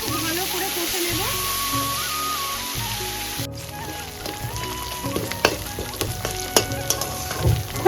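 A paste of ground cumin and dried red chillies frying in hot oil, with a bright, steady sizzle and some stirring, over background music and a brief voice.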